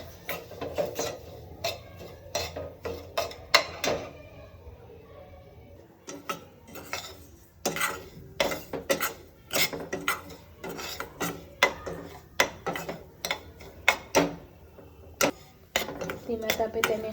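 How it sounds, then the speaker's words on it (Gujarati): Semolina roasts in ghee in a pan over low heat, a spoon scraping and clinking against the pan in quick, irregular bursts, with short pauses between strokes, close and fairly quiet. "ધીમા તાપે તેને હલાવતું રહેવાનું છે જેથી સોજી નીચે ચોંટી ના જાય"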